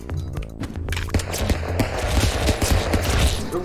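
Rapid gunfire rattles in a dense, continuous burst, loud and close, building over a few seconds with thumping low impacts mixed in.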